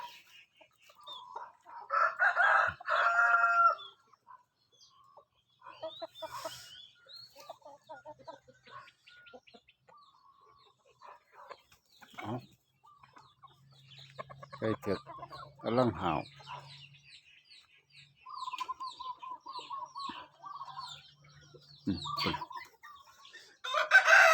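Chicks peeping and hens clucking in scattered bursts as chicks are separated from their mother, with loud squawks midway and short pauses between, over a low hum and occasional voices.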